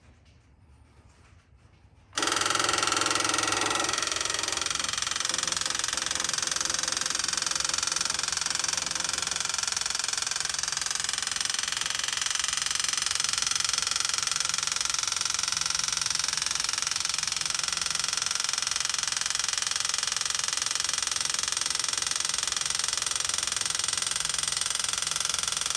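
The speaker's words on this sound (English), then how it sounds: "that's a ratcheting or piston type pump" A Chinese diesel heater's piston-type fuel pump on a main fuel tank starts up after a quiet moment and keeps up a loud, continuous mechanical racket with rapid clicking throughout.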